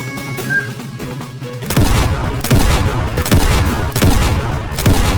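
Rapid bursts of gunfire in the Roblox game Dead Rails, loud and close, firing in repeated volleys after a brief quieter lead-in.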